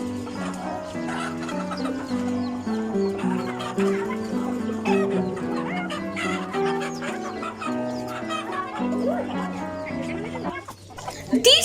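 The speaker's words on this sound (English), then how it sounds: "These are roosters." Roosters and hens cluck and call continuously at a bird and animal market in Sharjah, a dense layered flock with overlapping clucks and occasional louder calls.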